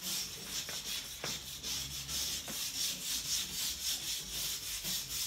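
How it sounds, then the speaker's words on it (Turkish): A brush is rubbed quickly back and forth over a styrofoam stone wall covering, producing a steady, close scratchy scrubbing hiss with a few brief knocks, heard alone without talk. "Fırçayla şöyle hızlıca duvarda bir gözenek açıyoruz."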